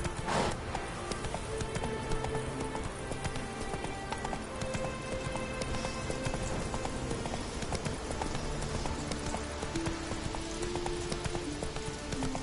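Hooves of Roach, a horse in a video game, clip-clopping steadily at a walking or trotting pace over continuous game music and ambience, with no talk.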